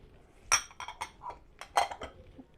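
A spoon stirs a lemon pickle mixture of salt, nigella seeds and safflower in a bowl, making a quick series of close metallic clinks and scrapes.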